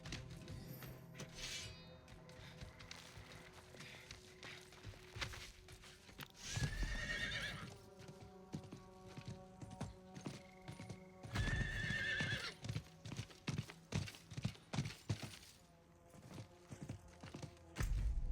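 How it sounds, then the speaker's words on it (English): A horse whinnies and its hooves clip-clop in quick, steady rhythm while it is ridden in the Diablo IV video game, with two loud neighs standing out over a busy game soundscape. "Kind of hard to go around corners with this horse a little bit."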